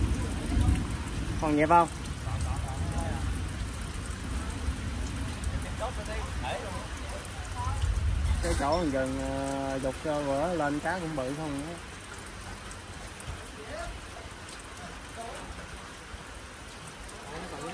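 Rain falls steadily during river fishing in the Mekong Delta region, a continuous patter under someone speaking at intervals, with occasional louder bursts.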